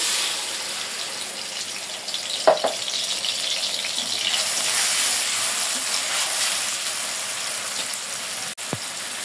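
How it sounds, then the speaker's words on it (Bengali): Onions go into hot oil in a pan while cooking a river kalia fish bhuna, giving a broad, steady sizzle with a couple of sharp clanks, fairly close and without speech. "তেল গরম হয়ে গেছে, পেঁয়াজ দিয়ে দিই।"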